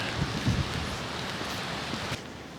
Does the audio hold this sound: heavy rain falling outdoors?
yes